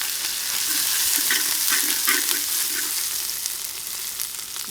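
Ground garlic and cumin masala sizzles in a pan as it is added to crab rasam, a steady bright frying hiss with occasional stirring clicks, close and continuous.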